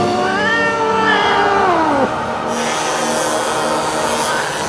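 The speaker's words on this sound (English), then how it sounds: "It's a good kitty cat." A cat lets out a long, drawn-out meow that bends downward before stopping, close and clear, followed by a quieter stretch of background noise.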